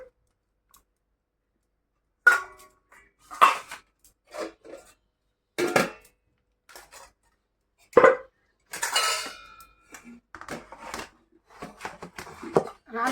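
Dishes and pots in a home kitchen being covered and put away, with scattered close clinks, clacks and metallic knocks in short bursts separated by quiet gaps.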